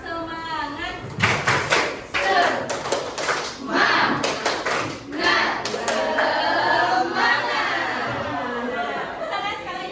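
Schoolchildren in a classroom clap together in a rhythmic spirit clap, bursts of patterned hand claps and thumps mixed with chanting and chattering voices, lively and near.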